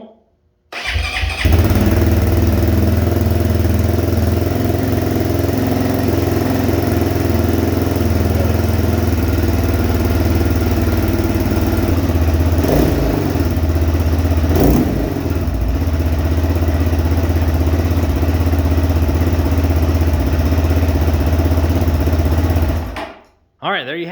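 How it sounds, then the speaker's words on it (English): A 2022 GPX FSE 300R motorcycle engine cranks and fires up on fresh fuel, settles into a steady, loud, close idle with a couple of brief revs partway through, then shuts off abruptly. "So just basically threw some gas in and fired it up."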